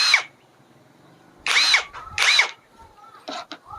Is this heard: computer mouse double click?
no